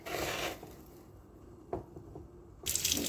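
Star anise is rinsed under a running kitchen tap. A short gush of water opens the moment, light handling noises follow in the quiet, and the stream runs again at the end.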